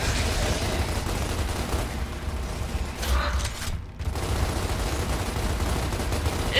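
Gunfire from Gears of War: Ultimate Edition rattles on steadily through a shanty town firefight, a dense continuous crackle of rifle shots with a brief lull near the middle before resuming at full intensity.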